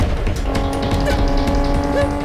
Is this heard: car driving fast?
yes